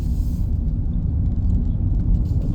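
Steady low rumble of cars idling and creeping in congested traffic, heard from inside a car during a drive, a continuous dense road drone with no clear individual passes.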